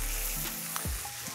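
A ribeye steak sizzles loudly in a hot pan, a steady close hiss with small pops and shifting tones, short and continuous, with no voices.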